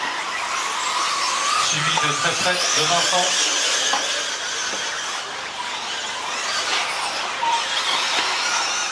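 Brushless RC truggies race around a track during an A final in April 2017, a high-pitched whining buzz of motors sweeping past under a French commentator's voice.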